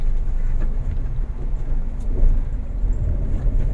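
Toyota Avanza Veloz 2012 running on Pertamax Turbo, coasting in gear off the throttle: a steady, loud low engine and road rumble heard from inside the cabin, with no talk.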